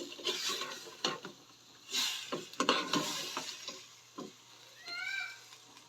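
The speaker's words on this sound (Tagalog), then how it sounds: "Mix muna natin para pag kumulo na siya" A spoon scrapes and knocks inside a cooking pot of squash and string beans in irregular strokes, with soft simmering between the louder stirs, close and fairly quiet.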